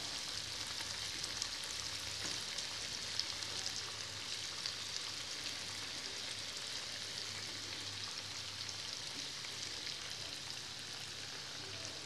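Slices of tapioca fry in a pan of oil, giving a steady, dense sizzle and crackle that holds evenly throughout with no voices over it.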